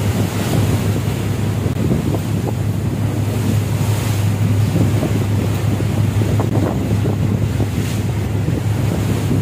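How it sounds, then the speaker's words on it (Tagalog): Sea waves splash and surge against a boat crossing from Mindoro toward Batangas Pier, with a constant roar of wind buffeting the microphone and a low engine hum underneath, loud and continuous. "Alon ang dagat."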